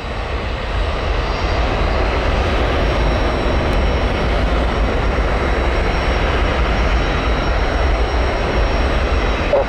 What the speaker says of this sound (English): I heard another exec jet pull up to the right.